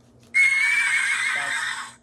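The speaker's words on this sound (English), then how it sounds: "That's a horse." A horse neighs once, a loud whinny of nearly two seconds that starts abruptly and trails off, with nothing else around it.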